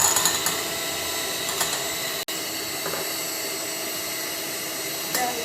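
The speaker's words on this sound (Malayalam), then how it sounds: "ഇനി നമുക്ക് നന്നായിട്ട് ബീറ്റ് ചെയ്തിട്ടെടുക്കാം." An electric beater whips eggs for yellow velvet cake batter, a loud continuous high whirr close by with one brief cutout before it resumes steadily.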